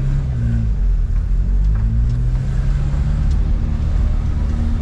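A 1978 Chevrolet Chevette's engine drones steadily from inside the cabin, with low rumbling and occasional soft jolts as the car bounces over a pothole-ridden road.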